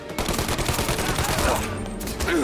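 Rapid gunfire rattles in a tense shootout in Mafia Definitive Edition, with a continuous burst of closely spaced shots holding steady for a couple of seconds.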